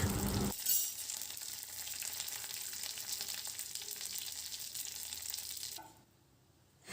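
Black cumin and about five or six curry leaves sizzle in hot ghee for a dhokla tempering, a loud close hiss that starts with a sharp burst, holds steady, then drops away near the end.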